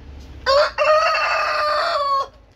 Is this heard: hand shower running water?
no